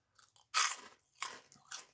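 Crunchy Tasty Toobs snacks are bitten and chewed close to the mic, a few loud crisp crunches separated by short pauses, with no talk.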